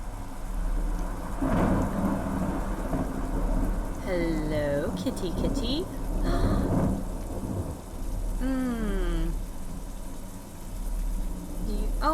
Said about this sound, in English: the sound of the rain makes me sleepy